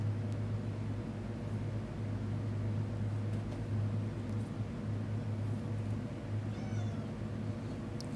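A house cat meows a few times, faint and thin, over a steady low droning hum that fills the room.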